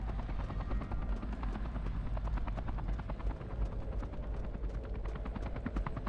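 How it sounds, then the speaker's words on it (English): A helicopter hovers in the Watchmen: The End is Nigh video game on Xbox 360, its rotor chopping in a fast, steady thump that stays loud and continuous without speech. "That helicopter's just gonna stay there?"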